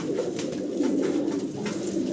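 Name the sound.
fancy pigeons cooing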